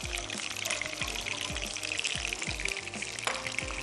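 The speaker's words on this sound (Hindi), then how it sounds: "साथ ही मैं इसमें और एक प्याली पानी शामिल कर देती हूँ" A cup of water poured into chicken stock (yakhni) for tom yum soup: a steady, close splashing pour that runs the whole stretch, with no talk over it.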